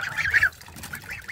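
Waterfowl in an indoor pen with a wooden floor honk and call in short nasal bursts, fairly close, with quieter calls trailing after against faint room noise.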